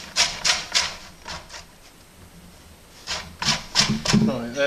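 Lemon zest grated on a box grater, heard as several bursts of raspy scraping strokes, a few quick passes, a pause, then another cluster of strokes, close and fairly quiet.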